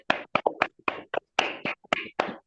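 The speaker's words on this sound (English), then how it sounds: "I'm clapping" Hand clapping by a lone person during a lecture, roughly a dozen sharp, close claps in an irregular rhythm, moderately loud with silence between them.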